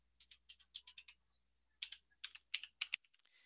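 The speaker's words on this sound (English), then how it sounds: "We can type in there the word description." Keys on a computer keyboard clatter quietly in quick bursts of a few strokes each, with a short pause in the middle, while text is typed into a Word document.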